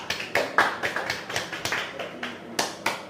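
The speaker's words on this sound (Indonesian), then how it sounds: "Tepuk tangan dong buat yang sudah jawab." Classroom applause for students who answered a teacher's question in an Indonesian lesson on human needs, a handful of distinct, fairly spaced claps in an uneven rhythm, close and moderately loud with no talking.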